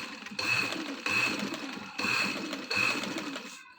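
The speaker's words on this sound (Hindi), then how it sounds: "अब इसके ऊपर हम इस तरह से फैब्रिक को रखेंगे और अब हम सिलाई लगाएंगे।" A sewing machine stitches lace onto fabric along a slit in four close whirring bursts of about half a second to a second each, separated by short pauses, with no talk.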